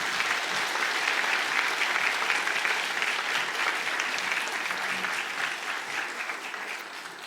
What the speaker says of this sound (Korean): 우리 큰 박수로 환영하죠.